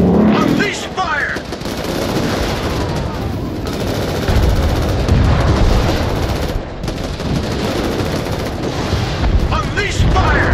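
Dense, sustained gunfire and explosive blasts from the military shooter game Crossfire: Legion roll on without pause, loud and close, with voiced unit callouts over the battle noise.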